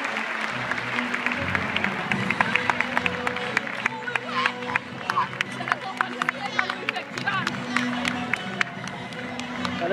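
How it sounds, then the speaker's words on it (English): Audience applause at a secondary school awards ceremony for a young leaders competition, sharp irregular claps over crowd murmur and some voices, continuing for about ten seconds. "Another round of applause, please."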